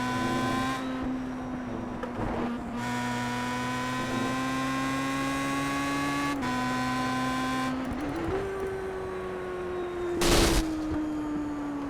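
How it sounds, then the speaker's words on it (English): A simulated DW12 IndyCar engine in the iRacing game revs hard at a sustained high pitch through several gear changes, then a sharp burst marks the engine failing, with no talk over it. "Our last test, can we blow the engine?"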